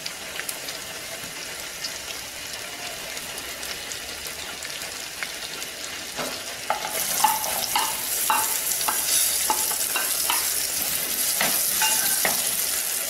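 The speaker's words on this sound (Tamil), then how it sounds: "நல்லா வெங்காயம் வதங்கட்டும்." Onions sauté with cumin and asafoetida in sesame oil, a continuous close sizzle with stirring scrapes that grows louder and brighter halfway through as the pan heats, with no talking.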